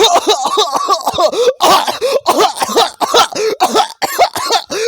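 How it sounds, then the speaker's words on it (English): A voice coughs repeatedly in quick, harsh bursts, close and loud, a nearly continuous fit of coughing with brief gasps between. "I can't stop coughing!"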